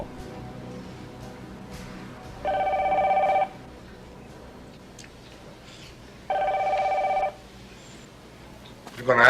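A telephone rings in a quiet room, two separate electronic bell bursts of about a second each, spaced several seconds apart, clear and close against faint background sound.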